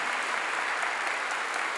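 A church congregation applauds during a sermon, a dense, even burst of clapping that holds at a steady loudness from start to finish with no voices over it.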